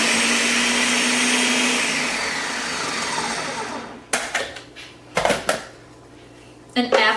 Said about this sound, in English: So I'm going to go with one more blend.